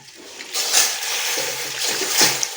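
Water splashes and pours into a cooking pot of bitter leaf soup with cocoyam, a steady close rushing stream for a couple of seconds with small splashes.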